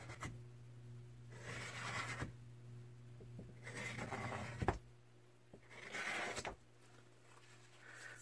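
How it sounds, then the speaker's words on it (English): Kitchen scraper dragging cold wax medium and oil paint across a mixed-media collage on wood: quiet rasping strokes in three separate passes, soft and close, over a steady low hum. "I'm going to try a different scraper this time."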